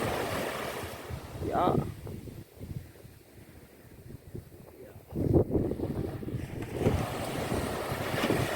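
Ocean waves roll in on a Jamaican beach, washes of surf rising and falling in a couple of surges amid gusty wind noise on the microphone, with a brief voice heard over it.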